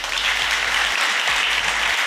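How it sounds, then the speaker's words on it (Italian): Loud, dense applause from an audience at a business talk, a continuous close wash of clapping over the whole stretch. "Facciamo un applauso, ragazzi."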